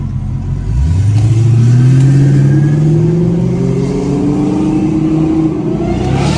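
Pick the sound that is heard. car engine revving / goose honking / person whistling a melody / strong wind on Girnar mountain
car engine revving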